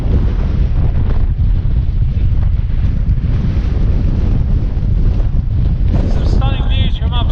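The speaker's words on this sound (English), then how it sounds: "It's so windy. It's really trying to blow me off down there." Strong high wind on open Dartmoor moorland buffets the microphone in a continuous loud roar with gusty rumbling. A voice breaks in briefly near the end.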